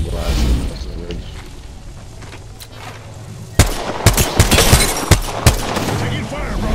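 Gunfire in the battle royale video game Apex Legends, a sudden burst of sharp repeated shots after a quieter stretch of game ambience, with players talking over the action.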